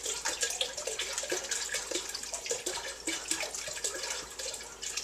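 A liquid stream of 1.5 liters of port wine is poured into a pot while making glogg, a faint, steady splashing and gurgling trickle heard close up with no talking.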